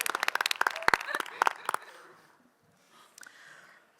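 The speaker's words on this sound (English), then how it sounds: "One round of applause for the Girdlers." A short burst of audience applause in a quiz-bowl room at an entomology games preliminary round. It is loud for about two seconds, then fades to quiet, and a brief second patter follows.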